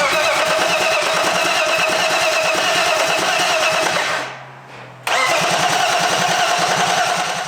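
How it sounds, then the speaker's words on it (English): A BMW E30 with a swapped S52 engine cranks on brake cleaner without its fuel system installed, a loud, continuous churning rumble that cuts out briefly near the end and then resumes, with no voices. "Now it's time to attempt to start the E30, but without the fuel system fully installed."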